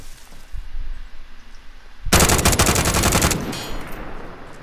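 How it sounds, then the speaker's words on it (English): Gunfire in Call of Duty: Modern Warfare, a sudden loud burst of rapid automatic fire that kicks in midway after a quieter stretch of ambient noise, continuing in a dense rattling stream before tapering slightly. "I'm shooting to check."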